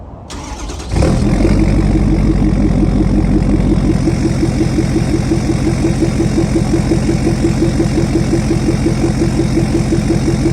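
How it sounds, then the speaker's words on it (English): A SEMA-built truck cold-starts with a brief crank, then settles into a loud, steady, close idle with a rough, pulsing rumble and no talking. "I'm gonna get you guys with a little cold start here."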